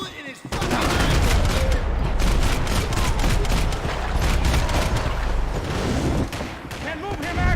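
Gunfire in the Max Payne 3 video game, dense continuous automatic fire and overlapping shots that stay loud for several seconds, with shouting voices mixed in beneath the battle.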